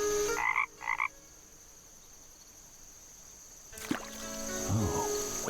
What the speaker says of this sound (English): Is that a frog I hear?